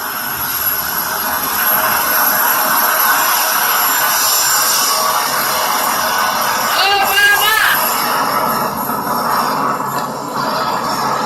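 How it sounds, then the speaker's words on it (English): A helicopter taking off roars loudly nearby, a dense, steady engine and rotor rumble that stays strong throughout. "helicopter will take off for Base Andrews, about a 10-minute ride, and then former President Obama"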